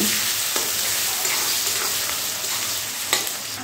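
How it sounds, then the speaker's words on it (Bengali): Chopped onions fry in oil tempered with whole spices for a mutton curry, giving a constant, close, loud sizzle with a few faint stirring scrapes and no talking. "এখন এই ফোড়নের সঙ্গে পেঁয়াজগুলো একটু ভালো করে লাল লাল করে ভেজে নিতে হবে"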